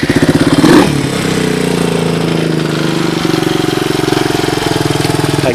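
Suzuki DR200ES motorcycle engine idling close by, a loud steady rapid thumping putter that briefly revs at the start and then settles into an even idle.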